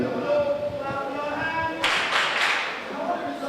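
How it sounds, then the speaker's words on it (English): Children clap their hands together in a short, loud burst of mixed claps after a stretch of group singing, with voices continuing faintly around it. "if you are happy and you know, clap your hands"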